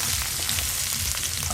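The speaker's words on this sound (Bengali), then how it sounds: "পেঁয়াজগুলো একদম বেরেস্তার মতো লাল লাল করে ভেজে নেব।" A bowl of onions frying in oil until deep golden brown, a close, loud continuous sizzle with light crackling and no voices.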